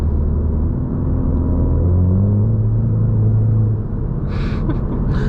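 A nearby car's exhaust rumbles low and steady while driving, heard from inside a 2019 Mustang EcoBoost with its own engine drone.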